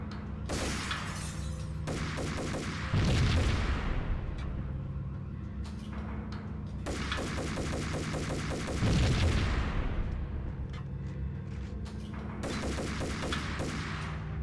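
Gunfire in the video game Max Payne comes in loud bursts of shots with shattering impacts, repeating in waves over a droning game background.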